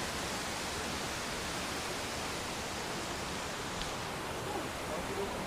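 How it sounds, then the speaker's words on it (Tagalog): Strong wind blows beside a river in Tanay, Rizal, a loud, steady broadband roar that fills the whole stretch with only slight swells. "Ang lakas ng hangin."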